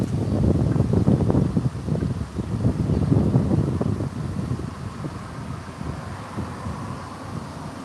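Outdoor wind gust buffeting the microphone with a loud, rough low rumble, strongest over the first few seconds, then easing into a steadier blow. No one speaks.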